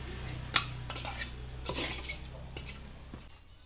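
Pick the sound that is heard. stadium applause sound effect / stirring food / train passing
stirring food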